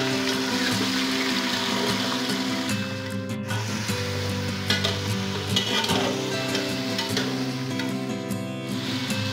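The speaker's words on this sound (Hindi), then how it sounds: "सबसे पहले गोश्त को तलेंगे।" Mutton frying in hot oil inside a pressure cooker, a continuous loud sizzle with stirring and bubbling that stays steady throughout, no voices.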